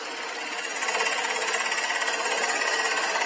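A gouge cuts across a birch bowl spinning on a wood lathe, giving a steady, bright, rapidly chattering scrape that builds slightly and then holds evenly for a few seconds.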